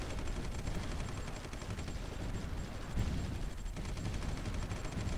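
Artillery and gunfire in the strategy video game Supreme Ruler 2020 rumble as a dense, continuous barrage of booms and rattling shots at steady loudness, with no voices.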